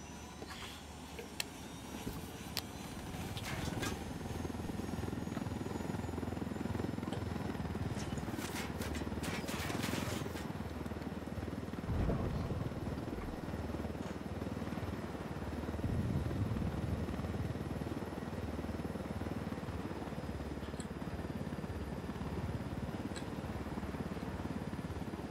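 A game helicopter in Ghost Recon gives a steady, muffled rotor drone that runs the whole time with no letup. A few brief clicks and taps sit on top of it near the start.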